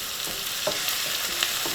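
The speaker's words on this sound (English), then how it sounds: "I just like to give this a stir every now and then, make sure everything's cooking evenly." Carrots frying in a pan for wild pork fried rice, stirred with a loud continuous sizzle and a few soft scraping strokes, close up and with no talk.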